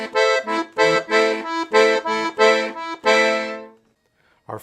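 Piano accordion playing a samba pattern with three beats combined: a steady run of bright, punchy reed chords and bass notes in repeated groups, ending with a longer held chord, solo and close.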